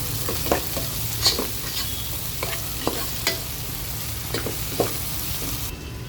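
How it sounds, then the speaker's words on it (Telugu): Onions frying in a pan with salt and turmeric are stirred, soft scraping strokes recurring over a steady close sizzle, with no talking. "ఉప్పు రుచికి సరిపడా అలాగే కొద్దిగా పసుపు కూడా వేసుకొని కలుపుకోవాలండి"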